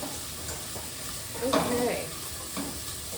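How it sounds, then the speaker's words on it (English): Onions and garlic sizzling steadily in a pan with a brief stirring scrape; a voice briefly speaks over the frying. "Ooh, do you hear that sizzling?"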